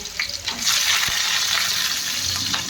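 Onion pieces hit hot oil and fry with a steady loud sizzle and hiss, a few light scrapes and splashes over it, close up and without talk.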